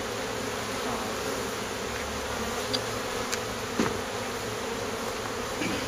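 Honeybees swarming over an open queenless hive, a dense continuous buzzing hum close by with occasional individual bees zipping past, steady throughout and with no talking.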